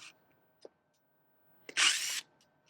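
A surgical drill bores into hard bone during a minimally invasive bunion procedure, a single short high whirring burst after faint clicks and taps in a quiet room.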